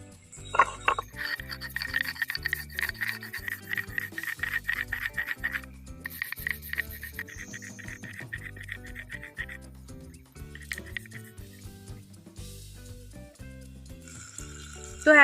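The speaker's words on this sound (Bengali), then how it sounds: "এর ফাঁকে আমি শিলনড়াইতে একটা মশলা পেস্ট করে নেব" Cumin, poppy seeds and a green chilli being ground into a paste on a stone grinding slab, with rhythmic back-and-forth scraping and rubbing strokes of stone on stone, close and fairly steady.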